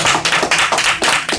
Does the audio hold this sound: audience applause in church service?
yes